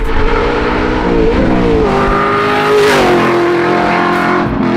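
A Shelby GT350 engine revs up and down, its throaty tone rising and falling through several loud, close pulls with no talking.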